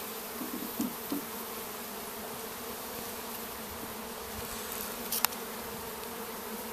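Honey bees droning from an open national brood box during a colony check, a steady close hum that stays constant throughout, with a few soft knocks of frames being handled.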